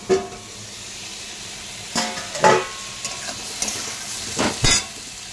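Ridge gourd and potato pieces frying in a pan over raised heat, a steady low sizzle broken by several sharp scraping strokes of a spatula, close and alone without talk.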